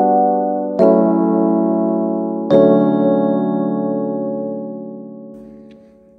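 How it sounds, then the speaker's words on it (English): Suitcase electric piano from a Purdy sound pack, played in FL Studio: two sustained chords struck about two seconds apart, each ringing out with a slow natural decay, clear and close with no talking. "I got this piano from Purdy"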